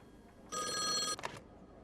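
A telephone bell rings loudly in the horror adventure game Call Of The Elder Gods, one sustained ringing burst followed by a few short trailing rings, alone without talk.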